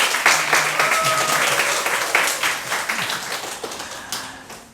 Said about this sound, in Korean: 자, 박수로 격려해 주십시오.